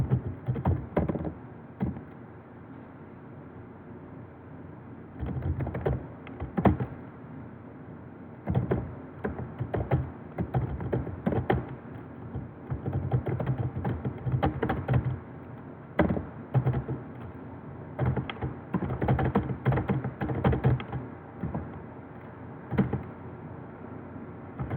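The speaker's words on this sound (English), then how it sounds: "hit enter, hit the space bar twice, and you're going to type in the following" Code being typed on a computer keyboard, heard as close, irregular bursts of key clicks with short pauses between runs, with no talking.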